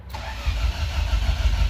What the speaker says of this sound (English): So I'm going to get Brian to crank it